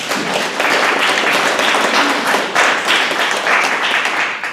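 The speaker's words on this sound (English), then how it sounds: "So let's give you all a round of applause for doing that." Audience at an Oak Park Neighborhood Association meeting applauding, a steady dense wash of clapping that holds loud and even for several seconds.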